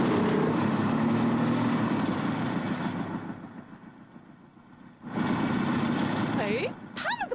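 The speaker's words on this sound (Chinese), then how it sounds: "使用气垫摩托" Hover motorcycles in an animated adventure power up together, a loud steady engine drone that fades down, then surges back abruptly, ending with a few rising electronic swoops.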